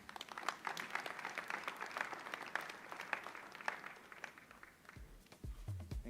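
Applause from a conference audience at a national wage bill conference, a steady patter of many hands clapping for about five seconds before tapering off.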